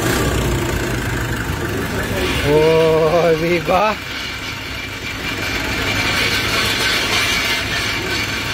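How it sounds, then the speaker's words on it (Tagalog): A Nissan NV350 van engine idles quietly and steadily after a turbo actuator, EGR and fuel pump relearn, a low even hum running throughout while someone speaks briefly over it. "Tunog kotse na mga paps. Tahimik, oh."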